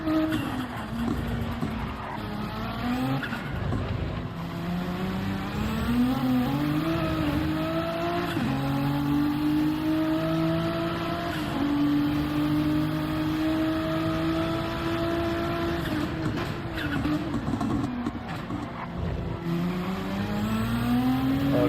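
An Aston Martin race car accelerates around Spa in a racing game, its engine note rising steadily in long harmonic sweeps through upshifts, loud and continuous, with other cars droning close behind throughout.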